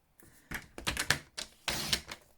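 Paper trimmer cutting cardstock down to size for a card layer: a few short close scraping slides and clicks, quiet and alone.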